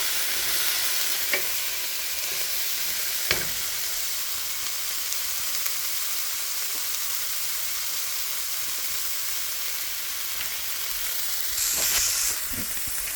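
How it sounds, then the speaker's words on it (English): Food for a meal-kit dinner sizzles loudly in a pan as garlic salt and chipotle seasoning are stirred in, giving a constant close frying hiss with occasional spatula clicks and a brief louder burst of spitting near the end. "And we're going to stir that all in here. Mix it up really good."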